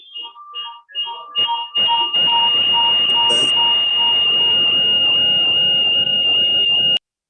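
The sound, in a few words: phone ringing or beeping in the room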